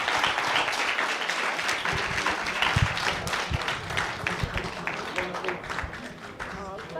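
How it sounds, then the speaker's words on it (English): An audience at an investigative journalism event gives a round of applause, sustained clapping that gradually tapers off, with some talk over it. "Everyone, if you could give a massive round of applause for guys."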